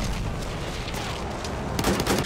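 Gunfire in Battlefield 1 during a battle royale match: a steady, dense wash of shots and battle noise with no clear single bursts, turning louder and sharper near the end.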